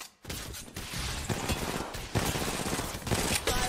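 Rapid bursts of gunfire from a first-person shooter video game, dense overlapping shots and volleys continuing throughout, loud and close with a brief pause near the start.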